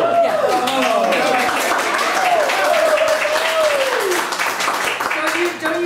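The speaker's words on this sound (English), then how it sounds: "Don't use up all your claps." Audience applause and clapping at a live micro-essay reading, a dense, steady wash of claps running loud throughout with a voice talking over it.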